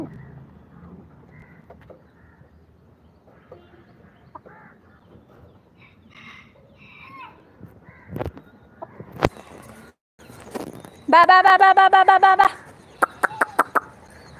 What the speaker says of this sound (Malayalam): പരുന്തും കാക്കയും